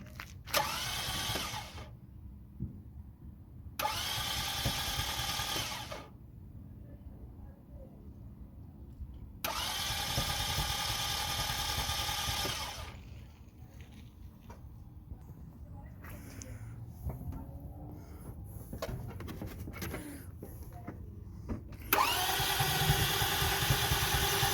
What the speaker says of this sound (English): I'm gonna start the engine now and see. Hope it's gonna start.